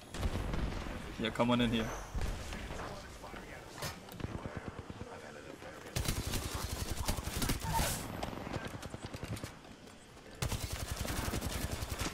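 Rapid gunfire bursts crackle through a hectic Apex Legends firefight, loud and repeated over a busy game soundscape, with a player talking over parts of it.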